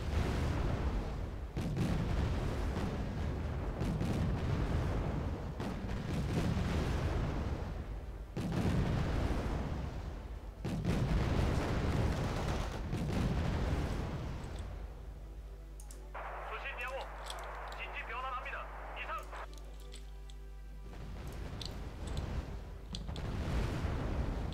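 Mortar shelling in the Wargame Red Dragon video game, set in a second Korean war: repeated heavy booming impacts with rumbling low end over a steady din, followed by a sustained droning stretch near the end.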